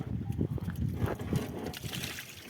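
Water is poured into an Audi 80 1.9 TDI at a roadside spring in cold weather, a short uneven splashing and gurgling trickle heard close by.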